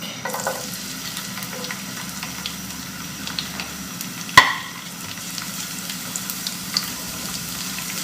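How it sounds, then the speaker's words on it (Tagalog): Garlic fries in about a tablespoon and a half of oil in a frying pan that is not yet very hot, with a steady soft sizzle and one sharp clink partway through. "And then we are going to add now our garlic."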